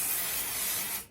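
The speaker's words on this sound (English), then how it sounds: "I'm just going to give this a quick spray with the ease release" A close, steady hiss of an aerosol mold release spray onto a resin surface lasts about a second, then cuts off abruptly.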